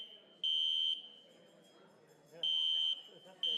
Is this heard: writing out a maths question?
no